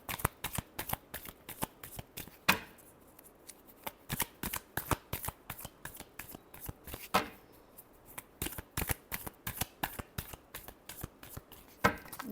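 A tarot deck shuffled by hand, steady rapid riffling clicks with a few sharper snaps where the cards are squared, close and quiet with no voices.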